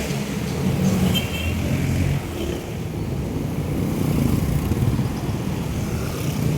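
A vehicle drives through the streets of Bagong Silang in North Caloocan, its engine a steady, close low rumble with slight surges, continuous and without speech.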